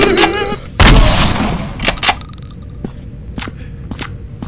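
A shotgun blast goes off in a Resident Evil game, one loud boom with a long decaying tail, followed by scattered sharper impacts and clicks at irregular intervals.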